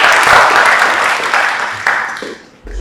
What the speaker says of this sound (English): Round of applause back here.